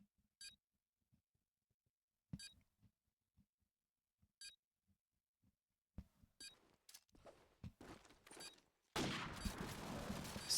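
Gunfire from Call of Duty 4 during a LAN tournament match: sparse sharp shots with faint beeps at first, then denser bursts building into sustained loud automatic fire near the end.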